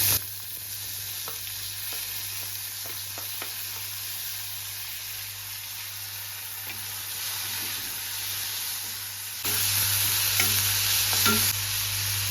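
A large onion sizzles and fries in hot oil while being stirred, a steady broad hiss with scattered scraping clicks of the utensil throughout, growing a little louder near the end.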